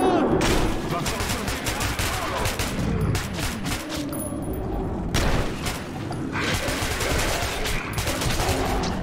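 Gunfire in the video game Metro 2033 Redux comes as dense, loud bursts of rapid automatic shots mixed with heavy booms, with short lulls between volleys.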